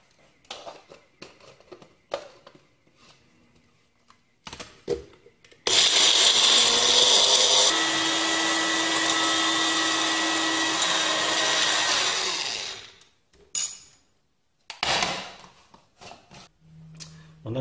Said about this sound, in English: all of this is going to be mixed to make a smooth paste